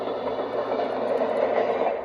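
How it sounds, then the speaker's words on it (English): A model train car rolled back and forth along its track, producing a steady rumbling clickety rolling sound that stays close and fairly loud throughout with no talk. "Rolling it back and forth, it's got the track noises, which are really nice"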